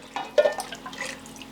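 A 13.5-ounce can of coconut milk is poured into a soup pot for red curry chicken soup, giving a brief, quiet liquid glug and splash with a few soft drips and no talking.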